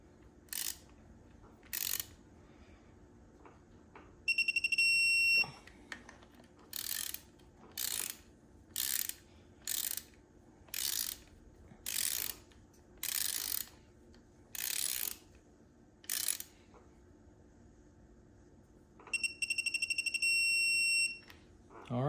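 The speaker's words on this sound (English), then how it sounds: "Set my torque wrench to 14." A torque wrench ratchets as timing cover bolts on a 1FZ-FE engine are tightened to 14 foot-pounds. Short, rhythmic bursts of close metallic clicking repeat about a dozen times with pauses between them in a quiet shop.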